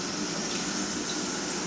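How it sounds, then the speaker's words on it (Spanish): A kitchen tap left running with only a little water, giving a steady, even hiss of flowing water that stays constant and close with no voices. "Tenemos que prender así la llave con poquita agua, ¿verdad?"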